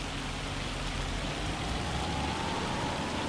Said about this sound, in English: This is hail.